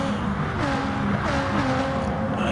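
BMW M4 race cars drive on a track, engines droning steadily with rising and falling revs as they pass through bends, a dense sustained motor roar heard from a distance throughout.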